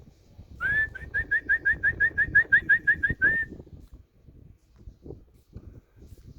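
A pigeon gives a quick run of about a dozen rhythmic whistling coos close by, then fades out to quiet background rustling.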